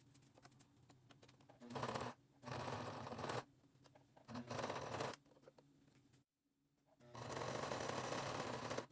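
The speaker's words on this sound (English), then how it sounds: "so I can run it through my sewing machine real quick" A grandmother's sewing machine stitches a T-shirt in loud, buzzy bursts of a few seconds each, separated by brief stops and one longer silent pause before a final long run.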